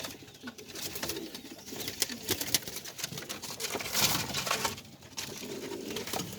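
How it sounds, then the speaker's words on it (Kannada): A loft of native and fancy pigeons in Bangalore coos in soft, low burrs against a faint, busy background of rustling and light patter. "ಮೇನ್ ನಾಟಿ ಪಾರಿವಾಳಗಳು ಜಾಸ್ತಿ ಇದೆ ನಮ್ಮ ಹತ್ರ, ಅದು ಬಿಟ್ಟ ಫ್ಯಾನ್ಸಿ ಇದೆ"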